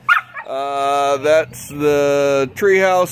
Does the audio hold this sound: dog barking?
yes